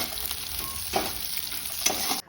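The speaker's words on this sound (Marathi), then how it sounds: "त्यात मस्त लाल होईपर्यंत आता मी तळून घेते त्याला." Village chicken fries in oil, giving a close, continuous sizzle with a couple of louder stirring scrapes and pops before the sound cuts off abruptly, with no talking.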